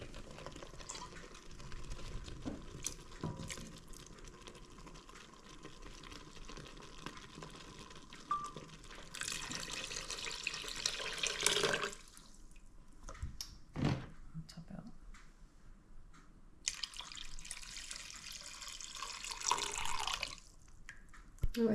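Water runs into a cooking pot as it is rinsed out in a kitchen, with two longer bursts of gushing tap water and splashing between quieter stretches of clinks and drips, close by.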